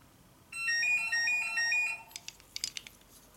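A toy telephone from a wooden railway vehicle set rings with a bright electronic warble that repeats three times over about one and a half seconds, close and clear. A few light clicks and taps follow.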